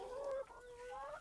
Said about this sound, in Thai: ไก่แจ้ก็มี